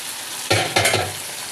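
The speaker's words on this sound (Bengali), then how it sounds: "এই দেখুন মাংসটা কষানো হচ্ছে।" Chicken kosha sizzles in a pan, Bengali style, as a spoon stirs it in two quick scraping bursts over a steady frying hiss.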